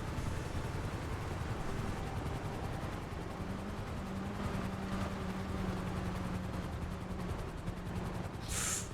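Steady rotor-like drone of helicopters in GTA RP, a continuous broadband roar with a low hum and faint gunfire-like crackle mixed in, loud throughout with a brief hiss near the end.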